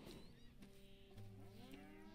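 A cow in the Red Dead Redemption 2 video game moos in drawn-out low calls against faint game ambience.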